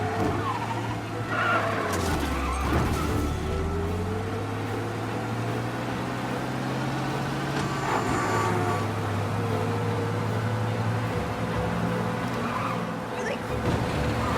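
A car engine in Mafia: Definitive Edition roars steadily at high revs during a police chase, with shifting pitch and occasional tire squeals, a continuous loud racing drone.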